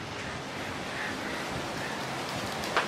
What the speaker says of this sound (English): it's breezy out here